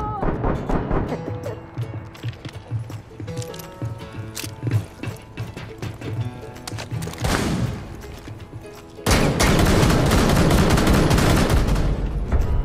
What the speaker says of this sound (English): Don't shoot at me!